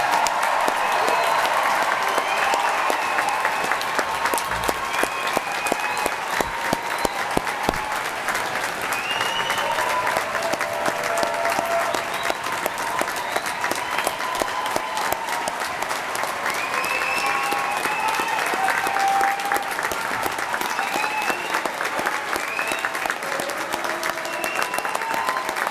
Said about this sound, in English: Please join me in giving all our graduates a well-deserved round of applause.